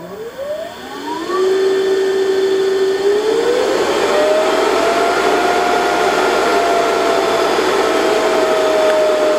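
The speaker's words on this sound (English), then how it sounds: "the motor just slowly slows down until eventually it will stall" An induction motor driven by a variable frequency drive gives off a loud, steady electric whine whose pitch glides up and then levels into a sustained tone as its torque falls away, with no talking.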